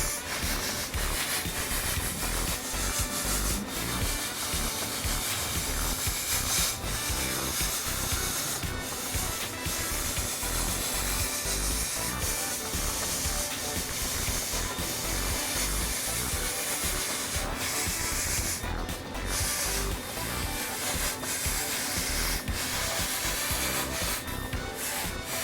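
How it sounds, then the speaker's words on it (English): Welding on a Jeep CJ7 steel belly pan during an AMC 304 engine swap, a steady, loud crackling hiss that runs unbroken for the whole stretch with brief dips near the end. "Ready to start welding."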